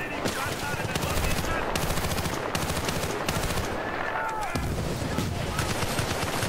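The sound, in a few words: M60 machine gun firing in video game Bad Company 2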